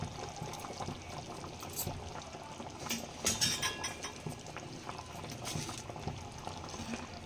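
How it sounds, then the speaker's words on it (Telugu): Fish curry made with katla fish keeps bubbling in a clay pot after the stove is switched off, a soft continuous simmer with scattered small pops and gurgles, fairly quiet and steady throughout. "స్టవ్ కూడా మనం ఆఫ్ చేసినాము కానీ మట్టి పాత్రలో ఉండే వేడికి కొంచెం సేపు బాయిల్ అవుతూనే ఉంటుంది"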